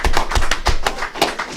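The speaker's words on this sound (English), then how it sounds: "Clap it up." An audience claps at the opening of a Purim feast gathering, with loud, close, rhythmic hand claps that come in quick repeated bursts throughout.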